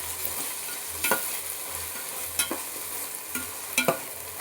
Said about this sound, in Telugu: మరోసారి చక్కగా కలుపుకుందాం